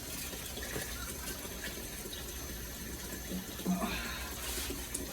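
Water pouring into an old fish tank being refilled, a soft, continuous gushing rush heard faintly and steadily with no other sounds standing out.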